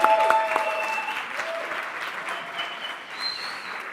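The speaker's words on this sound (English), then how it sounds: "Big round of applause then for Octavio." An audience at a cocktail competition final claps in a steady, dense round of applause that holds for the full few seconds, moderately loud, with no voices over it.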